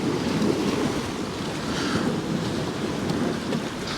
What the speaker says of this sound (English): I'm just waiting to see what this wind does